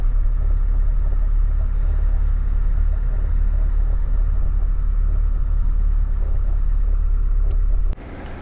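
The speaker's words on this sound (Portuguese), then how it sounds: "O caminhão que eu tô trabalhando hoje é um Constellation, galera, 14190 Robust." Steady low engine rumble from a Volkswagen Constellation 14190 Robust truck running continuously, loud and close, cutting off abruptly near the end.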